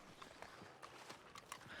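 Horse hooves clip-clop at a walk, a run of faint, evenly spaced knocks heard at a distance with no voices over them.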